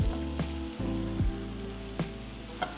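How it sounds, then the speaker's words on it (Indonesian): Garlic frying in a pan for spaghetti vongole, a steady close sizzle with a few soft pops and crackles, no voices over it. "Kita masak sampai bawang putihnya berubah menjadi transparan atau wanginya mulai terasa harum"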